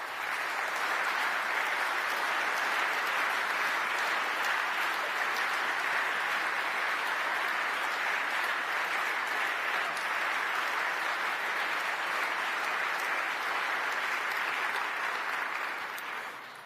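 A large conference audience in Kyiv applauds steadily and evenly for the whole stretch, a dense wash of clapping heard from within the hall, fading only slightly at the very end.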